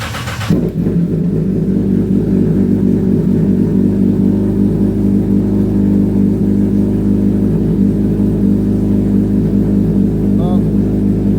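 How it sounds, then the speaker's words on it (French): A car engine idles steadily and loudly from start to finish, a low constant rumble with a brief change at the very start. "même si je me mets moteur tournant"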